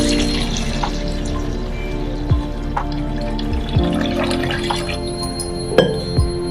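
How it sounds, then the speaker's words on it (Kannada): Water is poured onto sliced chapati dough mixed with oil and salt, giving quiet trickling and a few sharp, close drips over a low kitchen background. "ಈಗ ಇದಕ್ಕೆ ನೋಡಿ ಈಗ ನೀರು ಹಾಕ್ತೀನಿ."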